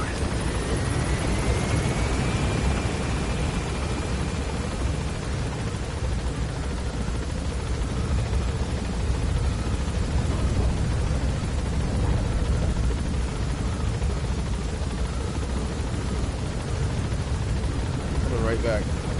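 A helicopter in a video game gains altitude. Its rotor and engine make a dense, steady roar for the whole stretch, with a faint rising whine early on.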